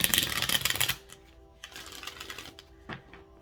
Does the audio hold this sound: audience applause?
no